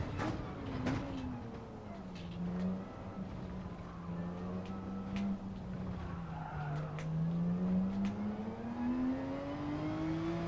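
A race car in Gran Turismo 7 at the Spa-Francorchamps circuit brakes hard, its tires squealing and skidding in a long sustained wail over the engine drone, loud and close with no speech.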